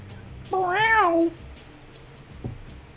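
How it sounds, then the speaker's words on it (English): A cat gives one long, rising and falling meow close by, followed by quiet room noise and a faint short sound. "Kitty, kitty, no. Meow."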